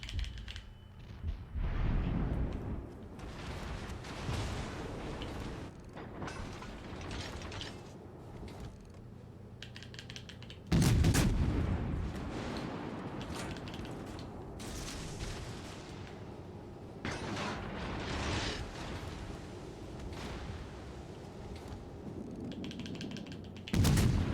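Naval gunfire in the World of Warships Legends game lands as muffled heavy booms among steady clicking and mechanical clatter, with one louder blast near the middle and another at the end.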